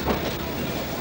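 A train runs steadily with a dense, constant rumble and a faint rhythmic clatter of its wheels, loud and close, with no voices over it.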